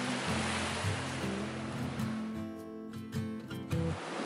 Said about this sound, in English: Yet another beach that we have all to ourselves with totally untouched sand.